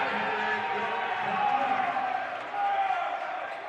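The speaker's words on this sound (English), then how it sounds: "Crowd into it on the far side." A gym crowd at a college volleyball match between Benedictine and North Central cheers after an ace, a steady roar of voices with a commentator talking over it.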